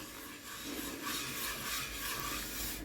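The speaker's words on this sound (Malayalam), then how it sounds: "ഇനി ഇതൊരു കൈവച്ചോ അല്ലെങ്കിൽ ഒരു ടിഷ്യൂ പേപ്പറോ വെച്ചിട്ട് നന്നായിട്ടൊന്ന് തിരുമ്മി കൊടുക്കാം" Cloth with an oil stain being rubbed firmly by hand or with tissue paper, a steady scratchy scrubbing that continues without pause, close and fairly quiet, with no talking.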